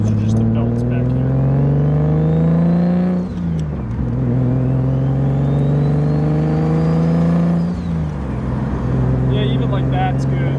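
A turbocharged BMW E36 M52 engine revs in two long pulls from around 2,000 to 4,000 rpm, each rising steadily then dropping back to idle, loud and close with a whirring belt note underneath.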